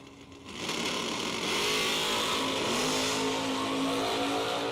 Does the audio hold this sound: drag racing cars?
yes